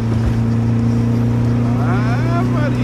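A Volkswagen Variant 1600 with whitewall tyres drives downhill past the listener, its engine a steady loud drone throughout with a rising pass-by sweep near the end, and a voice speaking over it.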